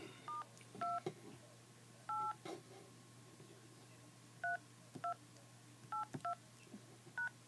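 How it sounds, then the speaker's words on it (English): Touch-tone dialing on an iPhone keypad: a series of short beeps, some in quick pairs, spaced irregularly over a faint steady hum in a quiet room. "when you type in *data# and press call"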